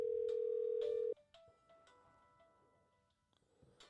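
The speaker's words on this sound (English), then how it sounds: "That's my phone ringing on the other room," A telephone rings in another room, one loud steady electronic tone lasting about a second before cutting off, followed by quieter indistinct room noise and faint clicks.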